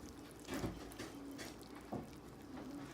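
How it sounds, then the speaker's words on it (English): Water mixed with fermentation starter is poured into salted garden cabbage for sauerkraut, a faint, soft splashing trickle with a couple of small splashes. "Next, we add the water with the fermentation starter in it."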